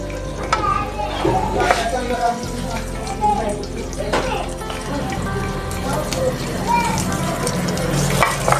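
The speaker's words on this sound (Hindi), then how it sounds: "इसमें हम अपनी रेड मिर्चें भी थोड़ी सी फ्राई कर लेते हैं।" Red chilies fry in a little leftover capsicum oil, giving a steady, moderately loud sizzle with occasional stirring clatter and some tonal background sound running throughout.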